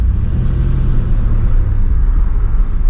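A 1989 Turbo Trans Am power braking in a parking lot, its engine holding a loud, steady low rumble close by with a slight swelling of revs.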